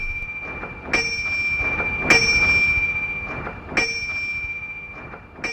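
A brass railroad bell rings loud and high-pitched, with four clear strikes at uneven intervals, each leaving a bright sustained ring that decays between hits.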